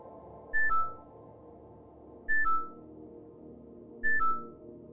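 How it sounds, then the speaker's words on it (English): Three evenly spaced two-tone electronic beeps from a computer-lab notification in the sci-fi game Void Breach, each a quick rising pair of clean tones, heard over a low ambient hum. "An automatic notification from the computer lab."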